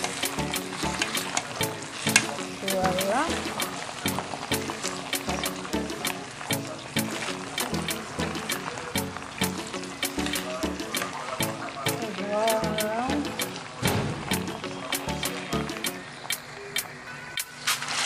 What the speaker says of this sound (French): Nous continuons notre friture.